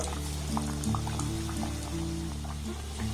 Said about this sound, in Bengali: আমি একেবারে সবগুলো দেব না, অল্প অল্প করে দিয়ে ভেজে নেব।